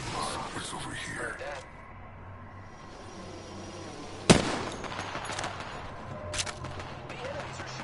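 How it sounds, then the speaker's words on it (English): Enemy gunfire in a video game crackles in a dense, busy mix that sits under game music and effects, with one sharp loud burst near the middle and scattered shots after it. "The enemies are shooting at me."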